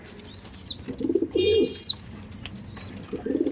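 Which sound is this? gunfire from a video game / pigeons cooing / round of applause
pigeons cooing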